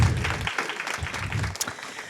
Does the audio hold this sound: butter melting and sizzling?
no